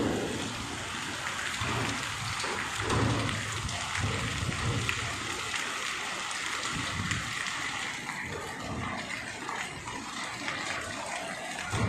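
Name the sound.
heavy stormy rain with hail in Chakwal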